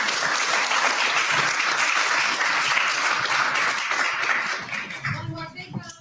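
Sustained audience applause fills a conference hall after a closing keynote at a startup event, dense clapping that fades out near the end as a voice begins speaking.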